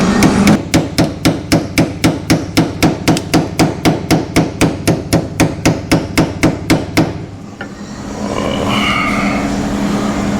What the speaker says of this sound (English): where's my daggum old hammer at?